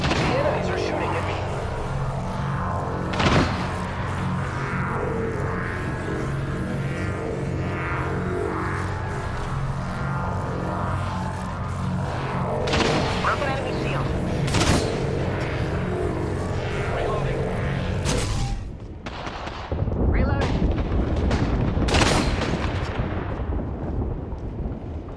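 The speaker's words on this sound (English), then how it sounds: "The enemies are shooting at me." Enemy gunfire crackles in an Apex Legends match, dense bursts and booming blasts over a constant loud roar of battle noise, with voices mixed in.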